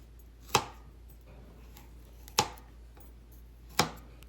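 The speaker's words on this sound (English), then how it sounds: "Now let's start chipping these okra. As you can see, I'm taking the head and the tail off." Three sharp knife chops on a cutting board, spaced about two seconds apart, as the heads and tails are trimmed off fresh okra; crisp, close and isolated against a quiet background.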